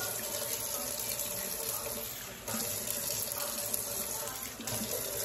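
Water runs steadily from a tap during a child's hair shampoo, a constant close gush and splash with small shifts in flow, no talk over it.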